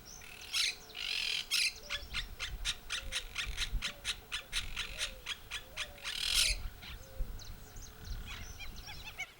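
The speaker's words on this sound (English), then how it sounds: "We were immediately greeted by the chatty catitas, a common and noisy sort of parrot." A flock of noisy monk parakeets (catitas) squawks in harsh, rapid bursts near a quiet riverside campground in Argentina, the calls overlapping in a busy, repetitive chatter.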